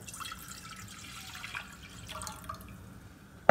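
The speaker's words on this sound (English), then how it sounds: "add the water." Water runs and trickles steadily at a low level as it is poured into a pot on a stove, with a few soft drips and a brief clunk right at the end.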